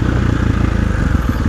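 A KTM 450 SXF motorcycle on a test ride, its single-cylinder engine producing a loud, close, steady low throb with no talk over it.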